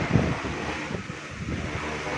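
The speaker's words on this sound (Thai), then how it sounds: "ลมแรงครับลมแรงขึ้นแล้วครับ" Strong wind buffets the microphone in an open outdoor field where an agricultural drone is being flown, giving a steady roaring rush with low thumps and gusts and no voices.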